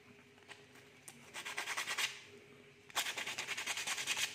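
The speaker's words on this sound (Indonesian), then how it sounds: "ini bambunya kita amplas dulu." Quick, rhythmic rasping strokes of sandpaper rub against cut bamboo, a few tentative scrapes followed by two steady bursts of close, brisk sanding.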